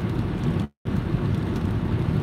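Steady rain heard from inside a car driving in Las Vegas, a dense, close hiss of rain and road noise that drops out briefly for a moment before resuming, with no talking.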